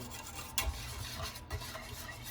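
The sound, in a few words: stirring glucose and butter mixture for coconut macaroons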